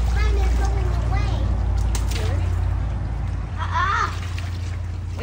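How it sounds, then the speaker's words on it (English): A garden hose left running sends a steady hiss of spraying water close by, while children chatter and shout excitedly over it throughout. "Is the water hose still on?"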